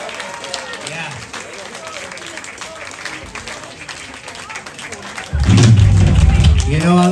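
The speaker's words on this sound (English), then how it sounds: "So please, Pascal, please, a round of applause." Toward the end, a concert crowd at a rock show at Le Ferrailleur in Nantes breaks into loud, sustained applause and cheering, following someone talking over quieter room noise.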